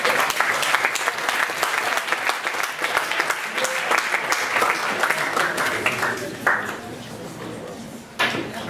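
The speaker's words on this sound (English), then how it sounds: "Once again, a big hand of applause for our" An audience applauds a guest speaker at a campus lecture event, dense steady clapping through most of the stretch that thins out near the end.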